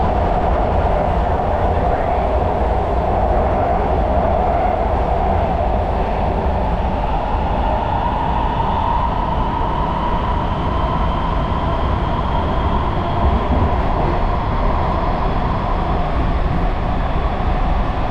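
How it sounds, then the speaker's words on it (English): A train rumbles steadily along the rails with a continuous low roar and a faint rising whine, heard from inside the carriage. "we just got off the train"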